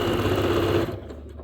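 Close by, a sewing machine hums and rattles steadily as it stitches a seam during quilt block assembly, then stops abruptly near the end, leaving faint quiet behind.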